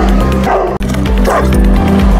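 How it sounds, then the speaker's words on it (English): Boerboel and American Bulldog barking, loud and close, with repeated heavy bow-wow barks and yips running almost continuously through a short burst, a brief gap near the middle. "Powerful and loudest bark. Let's hear it first and we'll decide accordingly."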